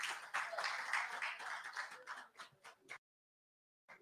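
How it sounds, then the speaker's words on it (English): Applause for award finalists at an awards ceremony, a small group clapping steadily and then thinning into a few scattered claps before it stops suddenly. "Give them another round of applause"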